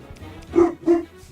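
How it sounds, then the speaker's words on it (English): A pet dog named Deanie Weenie gives two short yipping barks nearby, with faint background noise between them. "I hear my boy Deanie Weenie barking."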